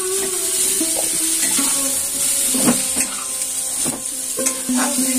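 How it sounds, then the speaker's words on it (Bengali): Cauliflower frying in hot oil in a pan, a steady loud sizzle with occasional stirring scrapes and clinks, no talking. "ফুলকপিগুলো লাল করে ভাজা হয়ে গিয়েছে"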